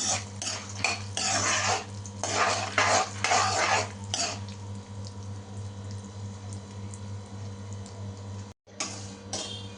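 Cumin, mustard seeds, roasted gram and peanuts frying in a pan for atukulu pulihora, with bursts of crackling sizzle and scraping stirs over a steady low hum, then quieter steady frying.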